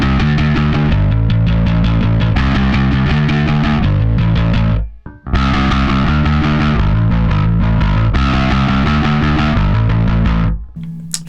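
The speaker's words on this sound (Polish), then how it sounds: "Jeszcze włączymy przester." An Aria Pro II SB-CFB bass guitar, a signature model played with a pick, runs through a distortion effect, loud and continuous with a brief break midway and no talk.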